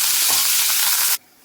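Green chillies and curry leaves fry in hot oil with a bright, steady sizzle that cuts off abruptly after about a second, with no talking.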